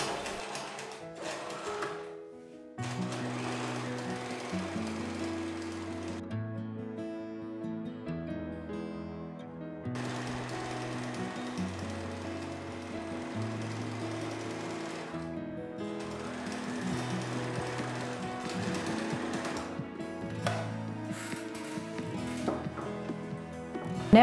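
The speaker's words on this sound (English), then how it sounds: "Then we're going to sew the hem in place." Sewing machine running a straight stitch along a fabric hem for a cushion cover, loud continuous mechanical whirring that pauses briefly and restarts several times, with no talking.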